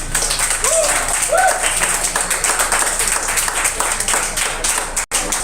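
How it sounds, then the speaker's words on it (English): A comedy show audience in a small room gives sustained, dense applause, a loud wash of clapping with a few whoops on top, cutting off abruptly near the end. "Give yourselves a round of applause for being here tonight."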